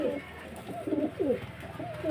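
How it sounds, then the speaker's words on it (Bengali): Big-sized pigeons coo in soft, repeated throaty rolls, several overlapping calls close by at moderate volume across two seconds. "একদম বিগ সাইজের পায়রা"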